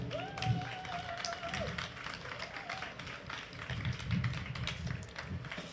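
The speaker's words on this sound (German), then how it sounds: "Nochmal Applaus für die Band." Audience at a German community event applauds the stage band, a steady mid-level patter of hand claps with faint voices and a brief tonal squeal underneath.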